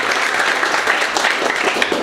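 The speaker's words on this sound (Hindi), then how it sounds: "मेरे साथ में से एक बार सबसे पहले दीपक सर के जोरदार ताली बजाइए" A crowd of students at a mobile repair training institute claps for Deepak sir, producing dense, loud, continuous applause from many hands up close.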